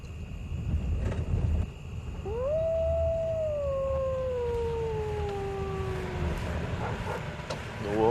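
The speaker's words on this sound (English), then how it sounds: "The wolves. Oh, she breeds wolves too?" A single long, rising then slowly falling wolf howl rings out on a 35-acre horse farm where Tennessee Walker horses are bred, clear and moderately distant over a low rumbling background.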